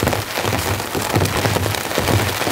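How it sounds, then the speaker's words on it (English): Heavy rain drums steadily on a taut ultralight tent, a dense continuous patter with no voices. "Rain's coming in heavy, guys."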